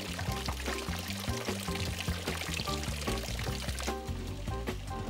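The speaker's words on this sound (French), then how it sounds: "une quarantaine de fontaines publiques font entendre ce doux bruit d'eau" Public fountains in the village of Pernes-les-Fontaines pour water in a steady, close splash, with a muffled musical rhythm in the background.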